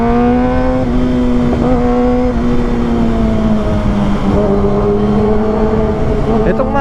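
Kawasaki ZX6R 600cc sportbike fitted with an SC Project exhaust, its high-pitched engine note steady and loud while riding at low speed, rising and dipping slightly with small throttle changes throughout.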